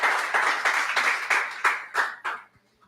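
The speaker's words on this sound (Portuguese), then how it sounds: "Dê um aplauso a Jesus, por enquanto." A church congregation gives a short round of applause, a handful of rhythmic clapping bursts close by that thin out and stop within about two and a half seconds.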